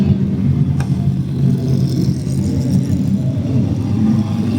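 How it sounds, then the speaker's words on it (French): GT race cars, among them a Porsche, leave the pit lane onto the Spa-Francorchamps circuit during the 12 Hours of Spa, a steady, heavy low engine drone close by, with talk faintly beneath. "Les véhicules sortent et vont rejoindre la piste."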